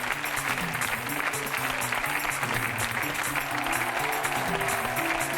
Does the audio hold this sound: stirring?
no